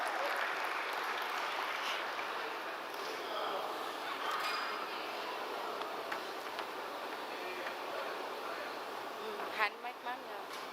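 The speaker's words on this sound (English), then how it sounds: "Can we have a huge round of applause for Sona ma'am?" An audience at a design fellowship meet in Hyderabad applauds a speaker, a continuous wash of clapping with some cheering, followed by a few louder handling knocks near the end.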